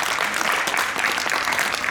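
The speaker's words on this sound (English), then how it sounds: "Let's give him a round of applause." A podcast audience gives a round of applause, loud, dense clapping that goes on without a break for about two seconds.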